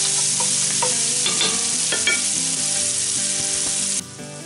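Onion sautéing in a little fat and pan drippings, as the start of Pennsylvania Dutch sweet and sour red cabbage. A steady close sizzle runs under repeated stirring clinks and scrapes, then softens abruptly near the end.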